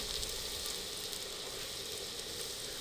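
Mutton sizzles as it hits fried onions in a handi for Afghani-style aloo gosht, a steady, close, continuous hiss and crackle with no pauses and no voices.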